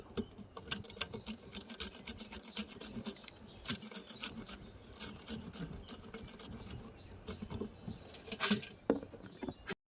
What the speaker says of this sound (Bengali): এবার লঙ্কাটা ঘষে নেব